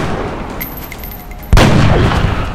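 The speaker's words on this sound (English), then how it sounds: "Overwatch from the sniper." A sniper's overwatch shot in XCOM: Enemy Within (Long War mod) rings out as a single sharp, loud blast partway through, following a quiet stretch with faint ticks and leaving a decaying rumble.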